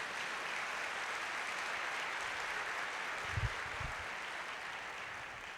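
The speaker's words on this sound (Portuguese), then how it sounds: "Porque você quer aplaudir Jesus? Pode fazer isso." Soft, distant clapping from a church congregation during a family worship service, a low steady patter with a couple of brief thumps near the end.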